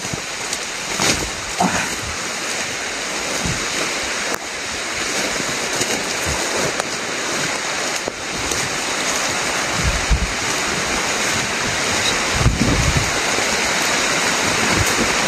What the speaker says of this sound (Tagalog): Lakas na yung ulan.